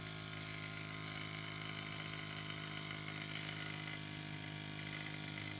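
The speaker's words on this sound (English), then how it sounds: "And then the pump's running." A vacuum pump motor on a Ford 6.0 Powerstroke Super Duty truck runs with a steady, even electric drone and hum, constant and unchanging throughout, faint overall but alone without talk.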